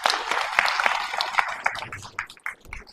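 An audience at a church gathering claps for Ram, a dense burst of applause that thins into scattered individual claps and fades out.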